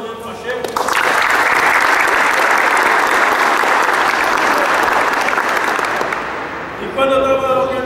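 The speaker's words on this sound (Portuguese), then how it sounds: "uma salva de palmas também para o Pacheco" Loud burst of audience applause at a gincana results event, starting abruptly after a short voice and holding strong for several seconds before a voice returns at the end.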